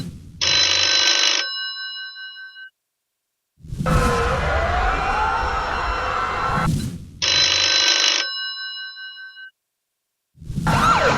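A telephone rings in a political ad, two bright bell-like ringing bursts separated by a longer noisy stretch, with a third ring beginning at the end.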